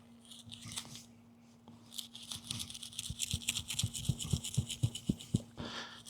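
A pocket bowie knife saws back and forth through thick rope, its strokes quickening into a steady run of rasping, crunchy cuts, close and alone without talk.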